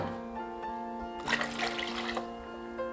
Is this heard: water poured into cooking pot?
yes